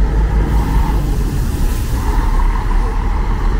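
Steady, loud engine rumble from a Cometa GTV coach at the Tietê bus terminal at night, a continuous low drone close by with faint station noise around it.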